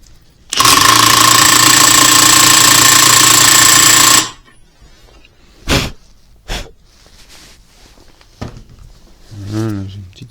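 A 27 mm socket on an impact tool tightens the clutch nut on a Suzuki SV 677cc engine being reassembled: a loud, steady four-second buzzing rattle, followed by someone speaking French with a few clinks of tools.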